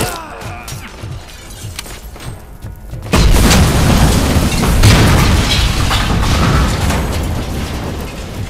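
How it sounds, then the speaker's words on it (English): Grenade explosions in the game RoboCop: Rogue City arrive as a sudden loud blast, followed by a sustained roar of booms, shattering debris and rumble that fills the rest of the moment. "No, my man, you could stop throwing grenades."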